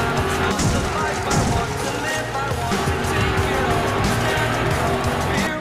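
Racing cars in the low-graphics mobile game Street Racing 3D, with a steady, loud engine roar and intermittent tire skids and squeals that run throughout, while a voice talks over the game sounds.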